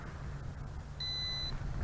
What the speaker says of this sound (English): Did you hear that beep? We are done calibrating the compass.